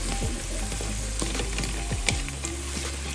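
Ingredients for manthi sauté in a hot pan, giving a steady close sizzle with scattered clicks and scrapes as a utensil stirs them.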